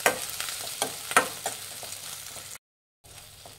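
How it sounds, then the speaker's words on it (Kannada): Ground sweet corn fries in a pan with a steady sizzle and repeated scraping stirs, then cuts to silence briefly before the frying resumes. "ಇದನ್ನು ಫ್ರೈ ಮಾಡಿ ಒಂದು ಸ್ವಲ್ಪ ಹಸಿ ವಾಸನೆ ಹೋಗೋವರೆಗೂ"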